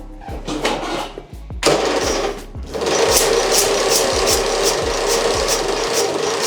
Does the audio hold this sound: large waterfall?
no